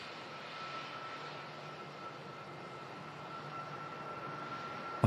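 A Ryanair Boeing 737 MAX 8-200 takes off at Manchester Airport in strong gusty wind, its engines a steady, moderately distant roar that holds even throughout.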